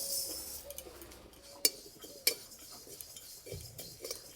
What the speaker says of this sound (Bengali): এখানে আমি 1 মুঠো তিল নিয়েছি, আর তিল বেশি লাগবে না, কড়াইয়ে দিয়ে দেবো